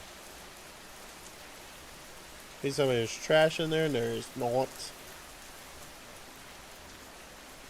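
Heavy rain in the video game Schedule I makes a steady, loud wash of noise throughout, with a person talking briefly over it midway.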